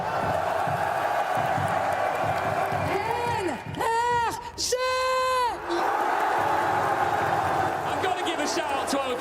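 An esports arena crowd at a Valorant grand final cheers and roars loudly around a speaking voice, with a brief sung or whooped tonal passage in the middle before the crowd noise swells back.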